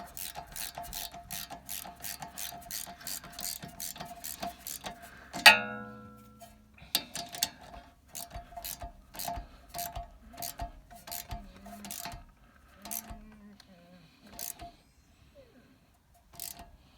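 A torque wrench tightens a rear brake caliper bolt on a 2013 VW Jetta to about 30 foot-pounds, giving a steady run of small, sharp ratcheting clicks at close range, one louder clack near the middle, then sparser clicks.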